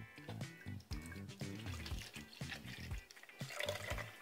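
Water pours and gurgles into a container of sugar for homemade hummingbird nectar in uneven splashes, fairly faint and close, with no talking.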